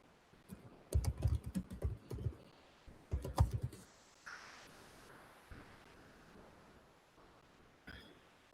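Two quick bursts of typing on a computer keyboard, close and crisp, then a stretch of quiet room tone with a single faint clatter near the end.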